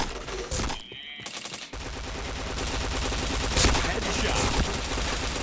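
Rapid, dense automatic gunfire in the shooter game Point Blank, loud and sustained with a short break, the bursts running almost continuously, with no one talking over it.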